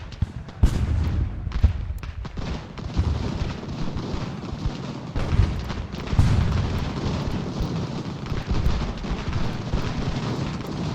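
Heavy artillery booms and crackling musket volleys from an Ultimate General: Revolution battle roll on continuously, with sharp reports breaking through a dense low rumble of distant cannon fire.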